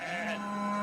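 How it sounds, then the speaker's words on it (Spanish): A lone sheep or goat gives a short, steady, nasal bleat, close and fairly loud, with no other sounds around it. "¿qué es todo ese balido de ovejas y cabras?"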